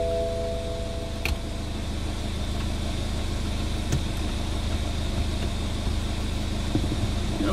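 A BMW 520 car engine idles with a steady, even mid-low rumble, constant and close, with an occasional faint tick or click.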